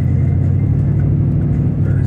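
A 1984 Buick LeSabre Limited with a three-speed automatic pulls steadily in gear, its engine giving a loud, constant low rumble and drone close by, with no voices over it.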